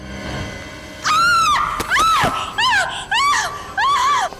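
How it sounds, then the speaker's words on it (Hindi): A woman screams in a series of shrill, wavering cries in a dramatic crime scene: one long scream, then several shorter bursts separated by brief gaps, loud and close. "क्यों चिल्ला रही हो?"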